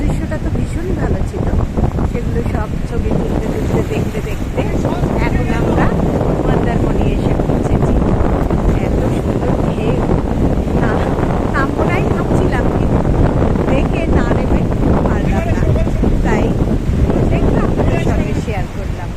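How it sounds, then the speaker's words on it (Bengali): Strong wind buffets the microphone over a steady roar of surf at Mandarmani beach, constant and loud throughout with no letup. "প্রচণ্ড হাওয়া আর জলের গর্জন, এতটাই আওয়াজ যে একে অন্যের ভালো করে কথাও শোনা যাচ্ছিল না"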